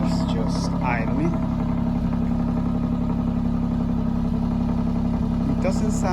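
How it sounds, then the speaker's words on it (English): An Alfa Romeo Giulia Quadrifoglio idles steadily and loudly with its exhaust valves closed, a deep, low continuous rumble with slight throb, while a voice talks briefly over it. "at this point, the valves close, and now it's just idling."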